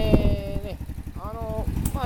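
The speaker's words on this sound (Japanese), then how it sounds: "アイドリングもね、安定しておりますね。" A Yamaha Majesty 250 scooter idles steadily with a low, evenly pulsing engine thrum, close by, while someone talks over it.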